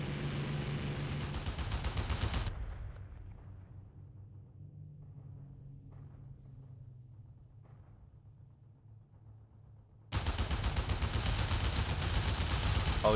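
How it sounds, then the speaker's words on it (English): Heavy anti-aircraft ground gunfire in the IL-2 Great Battles flight game during the Battle of Bodenplatte, dense rapid bursts at the start, a quieter engine drone in the middle, then loud sustained firing returning at the end. "Oh yeah, there's loads of guns down there"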